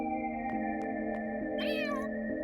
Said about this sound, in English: It's kitty!